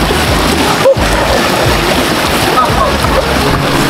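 Strong river current rushes at Wawa Dam in Rodriguez, Rizal: loud, close, continuous broadband water noise with churning, splashing texture throughout.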